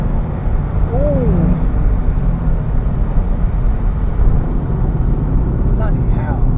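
A 1997 Subaru Impreza WRX STI Type R Version 3 turbo engine pulls steadily from about 4,000 rpm at 40 mph in third gear, a loud, constant in-car drone with a short whistle-like tone early on.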